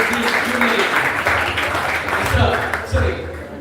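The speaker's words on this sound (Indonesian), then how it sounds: "Berikan tepukan yang gemuruh buat Pastor Pengetua Rudy Juni." A church congregation gives a pastor a big round of applause during a worship session, a broad wash of clapping that swells and dips while voices carry over it.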